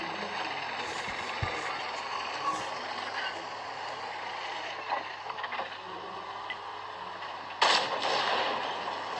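Tank cannon fire in World of Tanks: a few sharp, distant-sounding shots over steady engine rumble and battle ambience, with one louder blast near the end.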